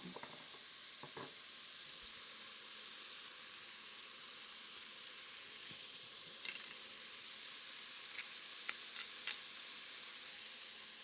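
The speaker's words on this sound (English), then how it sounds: "We're just going to give that a little bit of a saute just to soften them and release some of the flavor" Carrot and onion sauté in a pan for a pork and white bean soup, making a quiet, steady sizzle with a few faint stirring clicks.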